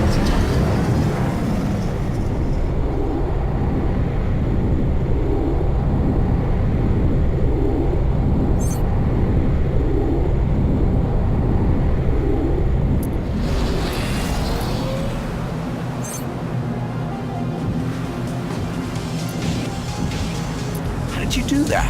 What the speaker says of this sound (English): Maneuvering thrusters should be more responsive now.